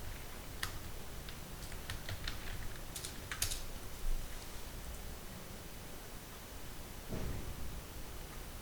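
Someone types PHP code on a computer keyboard, producing sparse, irregular, fairly faint key clicks over a steady background hiss, with no voices.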